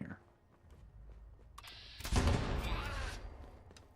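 Bow shots with explosive arrows in Fallout 76 are heard as a faint thin release, then at about two seconds a loud booming explosion that rumbles and decays over the next second, with scattered clicks around it.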